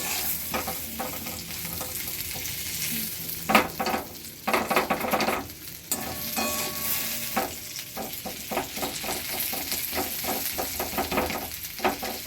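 Plum (kul) pickle is stirred in a pan, with repeated scraping strokes of a spoon against the metal over a soft sizzle, in an irregular rhythm with a few louder clattering scrapes.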